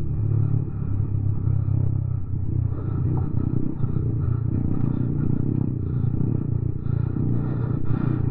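A Mahindra Mojo motorcycle pushed hard along a bumpy mountain road over Zojila Pass in Ladakh, its steady engine rumble mixed with constant rattling and clatter from the rough surface, loud and continuous throughout.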